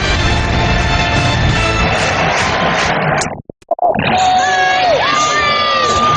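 A packed crowd of 75,000-plus at Ralph Wilson Stadium cheers the Buffalo Bills at an NFL football game after a 7-0 lead, a loud, continuous roar with whoops that drops out briefly midway before surging back.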